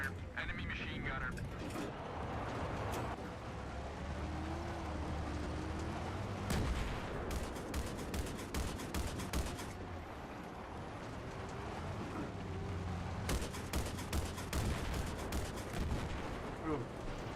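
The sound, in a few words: enemy machine gun fire in Battlefield 3 video game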